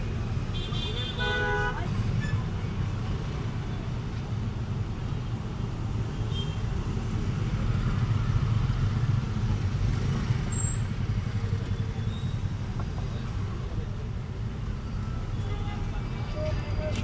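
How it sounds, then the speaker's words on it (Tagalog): Busy city road traffic in the Philippines with steady engine rumble and a few brief car horn toots early on, continuous and moderately loud throughout, with people talking over it. "Grabe yung traffic."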